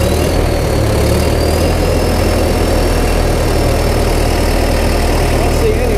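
Diesel engine of heavy equipment at a Florida auction yard idling close by, a loud steady low rumble that continues unchanged throughout.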